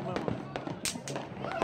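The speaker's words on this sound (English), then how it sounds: "Oh, firework there, firework there, there, firework everywhere." New Year fireworks burst in several sharp cracks and pops outdoors, scattered irregularly while a person talks over them.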